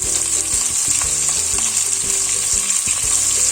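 Two large chopped onions hit a hot pan for a coconut-milk chicken curry, a loud, bright, continuous sizzle close up, with quick irregular scrapes and knocks of stirring underneath.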